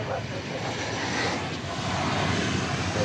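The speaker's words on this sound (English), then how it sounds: "That was American Flight 802 coming in from Raleigh-Durham," An American Airlines Airbus A321neo lands at DFW Airport, a steady, loud broadband jet roar that holds throughout with a slight swell midway, the engine noise continuous and fairly close.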